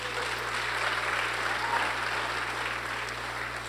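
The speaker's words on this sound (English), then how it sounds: "Round of applause for Alana Dawn, ladies and gentlemen." A crowd claps steadily in sustained applause, dense and even throughout, with no voices standing out.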